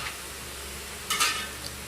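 Squid being stir-fried with peanuts and tempeh in a pan, a soft steady sizzle with a brief scraping stir of the spatula partway through, alone and fairly quiet.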